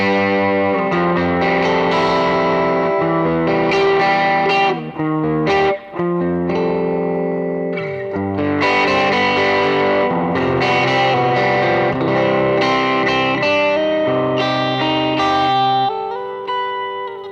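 Electric guitar through an amp capture miked with a Beta 57A vocal mic plays dense distorted chords and melodic lines with effects and reverb, loud and continuous for over fifteen seconds without talk.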